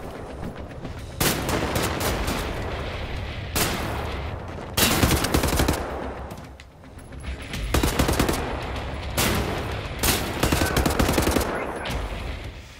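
Shotgun fire in Wolfenstein The New Order: a string of loud, heavy blasts at irregular intervals, some in quick pairs, over dense continuous battle noise.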